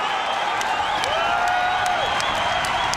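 A UFC arena crowd at the Cox Pavilion cheers and applauds a fight in a steady, dense roar, with whistles and whoops rising above the sustained noise for the whole stretch.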